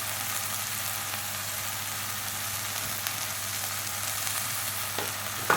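Quiche filling fries in a pan with a steady, even sizzle throughout, a faint low hum beneath it and a soft scrape or clink near the end.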